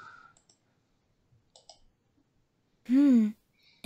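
Mouse clicks come from a point-and-click video game while garden gnomes are selected, a few sparse, sharp clicks amid quiet, with a short voice burst near the end.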